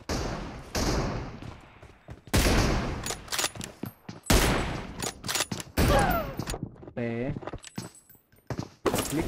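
Bursts of gunfire ring out in the mobile battle game BGMI, several sharp volleys and single shots scattered across the stretch, with quieter gaps and a short tonal effect between them.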